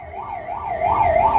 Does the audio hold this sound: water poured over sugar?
no